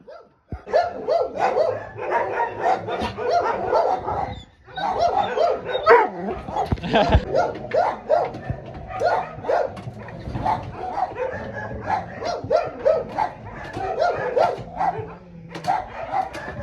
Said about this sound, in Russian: Хороший пес.